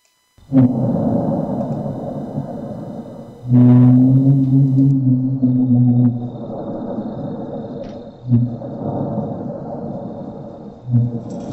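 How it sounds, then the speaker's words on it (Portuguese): A mysterious low humming sound known as the hum drones steadily, a deep rumbling tone that swells and fades in waves with occasional louder surges, heavy and continuous with no talk. "Então este é o som do hum, o zumbido."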